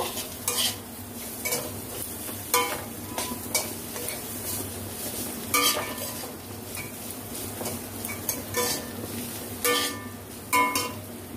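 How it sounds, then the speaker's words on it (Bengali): Cumin and chili powder are stirred through bitter gourd in a pan, with repeated scraping strokes of a spoon against metal over a soft background sizzle, the strokes coming in irregular bursts. "মশলাটা ভালো করে একটু মিশিয়ে নিয়ে"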